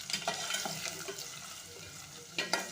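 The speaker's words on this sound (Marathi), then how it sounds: "आणि कांदाही थोडासा परतून घ्यायचा आहे," Onion sautéing in a pot for chicken soup, with a steady soft sizzle and scattered scraping stir sounds, a louder clatter near the end, close and without speech.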